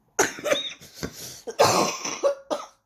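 A person coughs repeatedly in a few harsh, close bursts with short pauses, with a bit of throat clearing, indoors during an art-supply haul.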